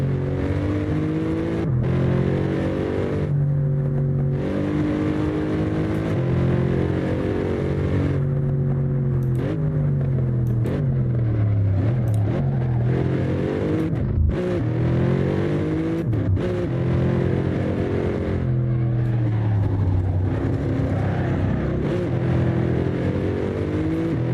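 Mercedes car exhaust in Assetto Corsa roaring loud and close on a warm-up lap, the engine note sweeping up through repeated gear changes and dropping on lifts, sustained without talk.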